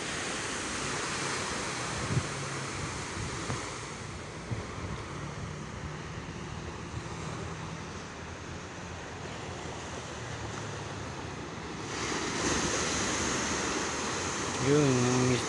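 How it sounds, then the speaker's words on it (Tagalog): Ocean surf washes steadily below a seaside spot where people are fishing, a broad, hissing wash that swells louder near the end, with faint voices now and then. "Karagatan."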